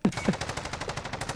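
Rapid automatic gunfire in the video game Call of Duty: Warzone (Modern Warfare), a quick rattling burst of shots at moderate loudness, with two heavier cracks at the start.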